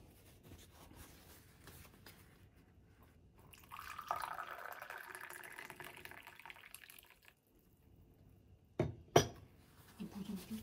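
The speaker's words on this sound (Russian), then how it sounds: "Наливаем чаек." Tea is poured into a cup in a home kitchen as a soft, steady trickle lasting a few seconds, followed after a pause by a couple of sharp, close clinks of crockery.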